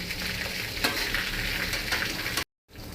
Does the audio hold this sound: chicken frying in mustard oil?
yes